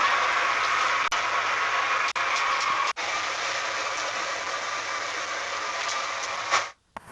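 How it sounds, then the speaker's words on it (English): The propane burner of a kettle corn machine fires with a steady, even roar, a few brief dips breaking the hiss before it cuts off abruptly near the end. "That was the sound of the burner that we use whenever we build these machines"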